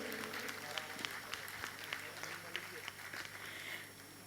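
An audience at a silver jubilee celebration event applauds a chief guest, the clapping steady and dense, heard at moderate distance beneath a faint background hum, with occasional sharper claps standing out.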